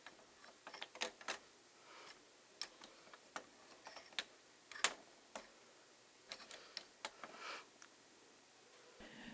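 A Lego Rube Goldberg tea-making machine driven by wooden balls, its mechanism stuck, gives off faint, scattered clicks and light ticks at irregular intervals over a quiet background.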